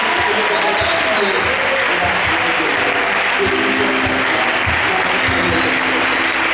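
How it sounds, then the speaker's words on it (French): A church congregation at a Sunday service applauds and cheers loudly and continuously, a dense wash of clapping and crowd voices filling the space throughout. "avec des acclamations"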